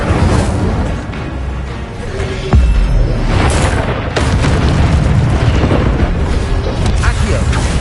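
Incendio fire spell cast in the Hogwarts Legacy video game, a loud booming whoosh of erupting flame with bursts and pops layered over other spell effects and a speaking voice.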